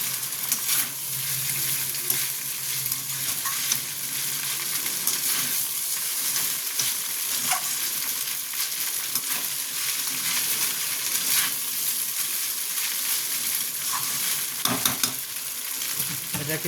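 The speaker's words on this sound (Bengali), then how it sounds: "এটাকে একটু ভেজে নিই।" Vegetable chowmein noodles stir-fried in a pan give a continuous loud sizzle and hiss, broken by occasional scrapes and clicks of stirring, with no talking throughout.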